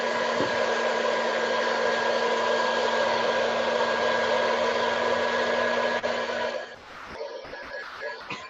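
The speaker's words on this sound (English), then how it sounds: "I'm gonna grab the blow dryer." A blow dryer runs steadily with a loud constant whirring hum, then cuts off near the end, leaving faint handling noises.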